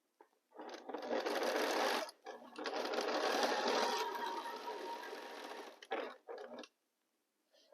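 Sewing machine joining fabric with a quarter-inch seam, with a short start, then two sustained runs of fast stitching and a few brief bursts at the end, close and clear.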